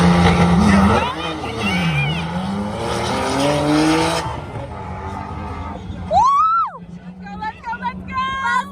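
A Shelby GT350, car number 21, launches at a spectator drag race event with a loud, broad roar of engine and tire squeal for about four seconds. Excited crowd voices and shouting follow as the noise fades.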